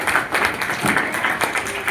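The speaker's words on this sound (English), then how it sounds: "So please give a big hand of applause for the Nalanda house." Applause fills a school inter-house science quiz, a dense, continuous patter of many hands clapping at once without a break.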